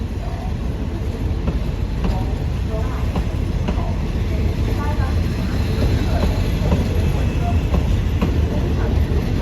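A freight train carrying goods on a Thai railway line rolls past, its steady, loud rumble mixed with rhythmic wheel clatter over the rails, while someone speaks over it.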